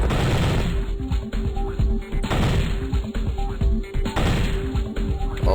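Sustained gunfire in the Operation Flashpoint game during a bush shoot-out, with dense, loud bursts of rapid shots and crashing impacts running continuously throughout.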